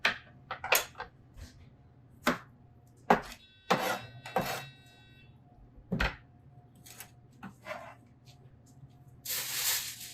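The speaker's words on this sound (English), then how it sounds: "The third squash that we're going to use is this butternut squash. And again, we're going to trim both ends." A knife trims the ends off a butternut squash on a cutting board, landing in several sharp, close thunks spaced a second or two apart, followed by a brief burst of rustling noise.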